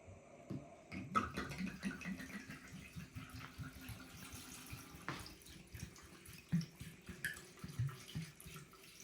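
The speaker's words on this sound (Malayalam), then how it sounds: "അപ്പോൾ മക്കളെ നമ്മൾ 2 പാട് ഒരുമിച്ച് ഒഴിക്കാൻ പോയിട്ടോ." Bacardi and Absolut poured together into a bottle for a carrot cocktail mix, a steady gurgling trickle of liquid with irregular splashy pulses running close by throughout.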